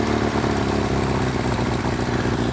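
A motorcycle idles in first gear and creeps forward on its own without throttle, giving a steady close low engine chug with light mechanical clatter and no talking.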